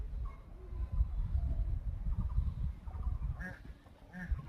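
A duck chased by a dog, giving a few nasal quacks and honks, the clearest two near the end, over a low, busy outdoor rumble.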